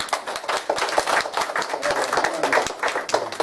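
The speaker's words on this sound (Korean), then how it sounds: "한번 박수 치겠습니다" Dense applause from a church congregation, many hands clapping together in a continuous patter that fills the room.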